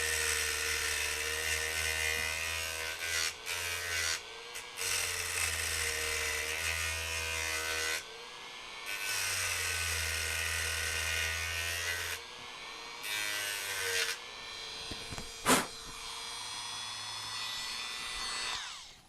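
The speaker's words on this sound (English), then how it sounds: "It's nice if they rotate as you're grinding them down." A small power tool grinds down rotating parts while repairing a Sony SL-HF400 Super Beta HiFi VCR, heard as close whining bursts separated by short pauses, with one sharp click partway through.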